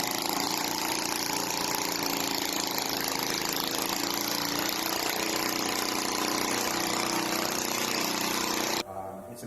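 A new two-stroke kart engine runs during break-in, held at a steady high RPM, a loud continuous buzzing drone that cuts off abruptly near the end.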